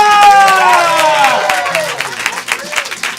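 Live-show audience claps and cheers loudly, with shouts and whistles over dense applause that gradually thins toward the end.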